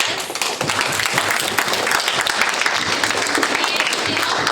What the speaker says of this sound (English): Can we give all of our entrepreneurs a round of applause?